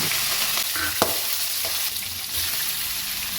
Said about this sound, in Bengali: জিরে ফোড়ন দিয়ে তাতে একটু এলাচ, দারচিনি আর তেজপাতা দিয়ে হালকা নাড়াচড়া করে প্রনসগুলো ফ্রাই করতে দিয়ে দেবে